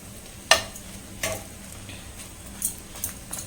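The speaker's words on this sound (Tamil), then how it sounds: "இந்த ஒரு பேட்ச் வந்து நல்லா நம்ம நெய் போட்டு எடுத்துக்கலாம்" Bread pieces fry in ghee for bread halwa under a soft, steady sizzle, while a spoon stirs and scrapes the pan in a few sharp, irregular clinks.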